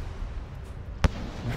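The Artificer character blowing herself up in a video game: a single sharp, loud blast stands out once against a steady low rumble of game background.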